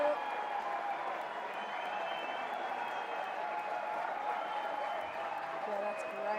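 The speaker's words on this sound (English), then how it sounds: "the crowd is going ballistic, as you can hear in the background" A crowd at a live fight event roars and applauds as the fighters walk out, a sustained wall of cheering and clapping heard from within the audience with nearby voices mixed in.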